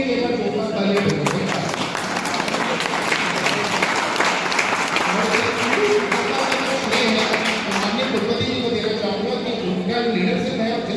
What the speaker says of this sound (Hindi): आप लोग अपने लिए एक बार जोरदार तालियां बजाएं।